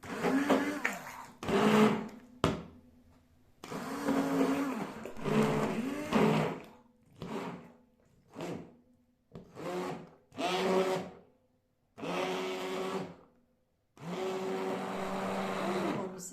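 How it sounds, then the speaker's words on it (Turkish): A blender crushes black mulberry ice cream in a series of short bursts separated by silences, some pulses brief and others held for a couple of seconds. "Şimdi tekrar blenderımızdan iyice parçalayalım, ezelim."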